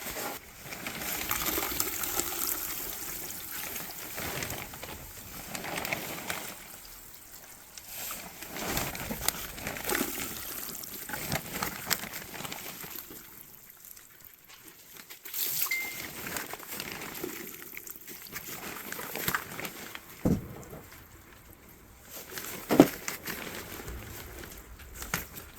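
Plaster of Paris is stirred by hand into water in a mixing bowl, with irregular sloshing, splashing and scraping sounds that rise and fall over a long stretch, close and moderately loud, with no talk.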